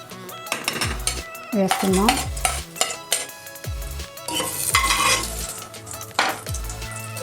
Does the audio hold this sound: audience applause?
no